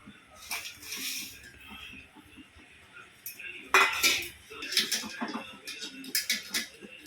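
Sugar goes into simmering mango jam in a pan, with a spoon scraping and clinking against the metal as it is stirred, scattered utensil knocks between quieter stretches, fairly close but soft overall.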